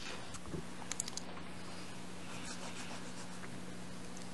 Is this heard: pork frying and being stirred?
no